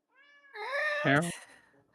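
A voice imitates a cat's meow, a single drawn-out mew that rises and then bends downward, clear and close.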